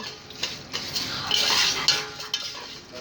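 A utensil scrapes and clinks against a pot as vermicelli is stirred and browned, producing irregular metallic knocks and scraping strokes at close range with a soft sizzle beneath.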